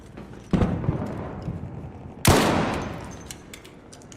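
Two loud, sharp shots from a suppressed hand cannon in a video game, about two seconds apart, each a broad burst that decays slowly with a lingering rumble.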